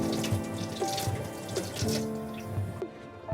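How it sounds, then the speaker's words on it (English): Water pours from a tap into a container to thin a painting medium for icon painting, a steady splashing run with a few drips, close and alone with no talk. "I'm going to add an equal amount of water."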